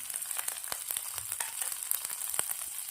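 Green chillies and garlic frying in hot oil in a kadai, with a steady bright sizzle and scattered sharp crackles and pops throughout, fairly close and alone.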